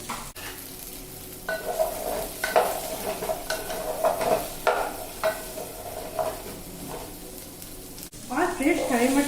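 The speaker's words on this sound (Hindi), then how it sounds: "इसमें गाजर भी भून ले रहे हैं।" Carrots frying in a pan with potatoes and cauliflower for vegetable pulao, a steady sizzle broken by repeated scraping stirs of a spatula against the pan, close and clear.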